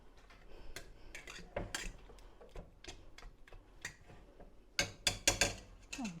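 A utensil repeatedly crushes blackberries in a pot for chia jam, irregular metallic clinks and scrapes against the pan, close and fairly quiet, with sharper clusters of taps toward the end.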